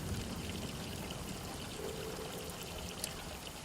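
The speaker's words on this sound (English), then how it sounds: "It sounds like bath water running." Bath water runs from an upstairs tap as a faint, steady pouring stream, continuous and soft, heard alone in the background.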